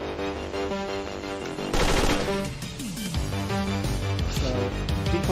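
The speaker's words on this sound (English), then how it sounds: "Now that bloke heard the gunshot, so he's coming back." Rapid gunfire in a stealth video game built on a Unity AI framework, loud bursts over a dense layer of game music and effects, with a sharp surge partway through.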